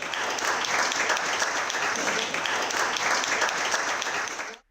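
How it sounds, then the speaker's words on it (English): Audience applause fills a summit kickoff hall at the APAC Summit in June 2023, a dense, steady wash of many hands clapping at full volume for several seconds before cutting off abruptly. "Let's give one big round of applause for our GIA Jakarta program startup."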